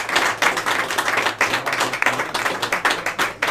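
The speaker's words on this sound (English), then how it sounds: "So give him a nice big round of applause as well." Applause from a pub crowd at a traditional Irish music session in Graignamanagh, County Kilkenny, dense, lively clapping from many hands, sustained and fairly close for the whole stretch.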